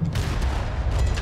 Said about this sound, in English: We've also got a fireworks show going on just port of the ship.